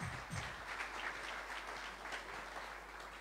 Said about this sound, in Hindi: सर उनके लिए तालियाँ बजाते